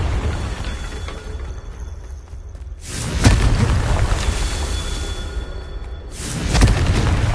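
Confringo spell blasts in Hogwarts Legacy, two loud, sudden booming explosions a few seconds apart, each followed by a sustained rumbling roar over a quieter game backdrop.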